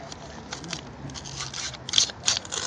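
Paper wrapping on a firework cake is cut open with scissors or a blade, giving close, crisp snipping and crinkling bursts that grow sharper near the end over a quiet background.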